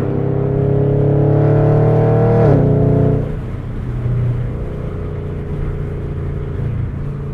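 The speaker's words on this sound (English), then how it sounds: "8-speed automatic rattles off some pretty quick shifts when you get higher into the RPMs." A modified 2017 Chevrolet Camaro SS convertible engine revs up under load, then drops sharply as the 8-speed automatic shifts, settling into a lower steady drone heard from inside the car.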